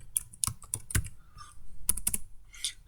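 Someone types on a computer keyboard to rename a spreadsheet tab, producing close, irregular bursts of sharp clicks with short pauses between keystrokes and no talking.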